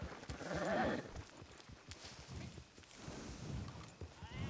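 Faint horse hoofbeats in a video game clip-clop at a steady walking rhythm, somewhat distant, over a quiet ambient background.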